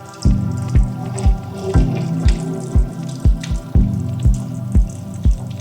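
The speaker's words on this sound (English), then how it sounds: "this is the plug we're going to unscrew so the antifreeze can drain from the radiator" Antifreeze draining from a busted Honda Civic radiator after the plug is unscrewed, heard as loud, close, evenly spaced drips and splats of liquid, about two per second, with no voices.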